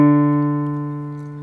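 One lower D struck on a keyboard, a warm sustained tone that decays gradually over about a second and a half with nothing else heard.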